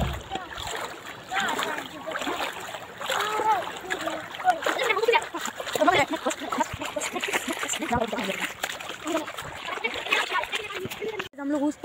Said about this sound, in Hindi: गाइस हम लोग पानी में आ चुके हैं, पार कर रहे हैं।